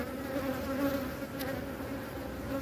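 Honeybees from a village beekeeper's hive hum in a steady, dense buzz that carries on evenly throughout, close and continuous, with no voices.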